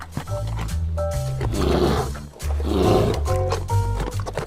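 Bear roaring in a series of deep, loud growling bellows, close and alone, with a short pause midway between two long roars.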